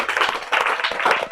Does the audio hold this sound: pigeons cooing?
no